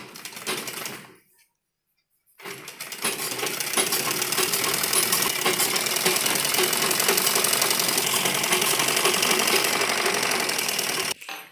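Sewing machine running steadily, stitching a folded strip of kurti fabric for a back-neck design; a brief pause, then a long continuous whirring, close and fairly loud.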